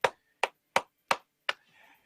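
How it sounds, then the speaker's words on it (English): Five sharp, evenly spaced hand claps ring out close and alone, each crisp and brief, followed by a faint trailing rustle. "Let's give them a round of applause now."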